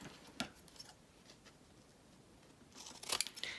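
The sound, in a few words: scissors trimming junk mail paper envelope pocket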